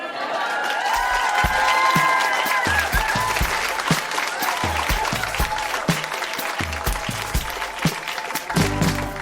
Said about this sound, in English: Huge round of applause for all of our readers.